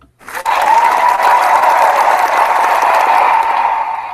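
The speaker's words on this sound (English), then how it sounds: "let's give him a round of applause" Sustained applause from an audience, a dense steady wash of clapping that swells in quickly and holds loud for several seconds before easing slightly at the end.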